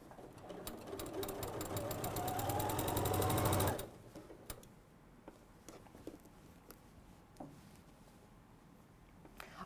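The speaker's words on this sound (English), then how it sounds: "this way, I'm sewing the binding to the inside" Sewing machine stitching quilt binding to the inside, a rapid even needle rhythm running for almost four seconds before stopping abruptly, followed by quiet handling noises and faint clicks.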